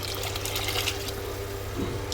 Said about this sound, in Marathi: आता चवीनुसार पाणी टाकलं